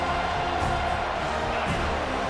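A stadium crowd roars steadily in EA Sports College Football 25, a dense, continuous wash of cheering noise with no clear breaks.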